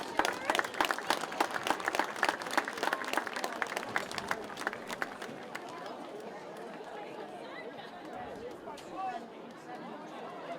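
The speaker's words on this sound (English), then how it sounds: "Round of applause, please." A crowd at a high school football game between Middlebury and BFA claps hard for the boosters, crisp distinct claps at first that fade into a softer murmur of chatter and scattered clapping.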